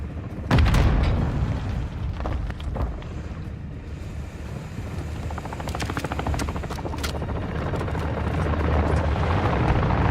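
A bot's grenade goes off in Call of Duty DMZ, a single booming blast early on followed by a long rumbling, windy roar with scattered distant impacts.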